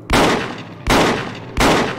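Three loud, close shotgun blasts fired at zombies in Project Zomboid, each a sharp boom that fades before the next, spaced under a second apart with no talking.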